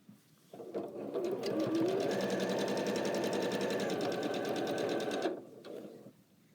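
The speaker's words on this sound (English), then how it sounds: "I'm going to sew this one." Sewing machine running steadily as it stitches quilt fabric with a quarter-inch guide foot, a continuous close whirring hum of about five seconds that starts and stops abruptly with no talk.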